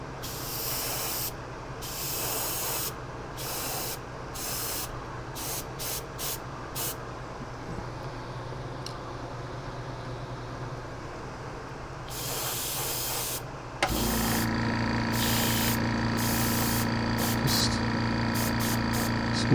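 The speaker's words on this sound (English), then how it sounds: "I know you probably don't want to listen to the compressor run anymore" A compressor-driven airbrush sprays haze gray paint onto a 1/700 scale model ship in repeated short hissing bursts, while the compressor hums steadily throughout and kicks on louder partway through.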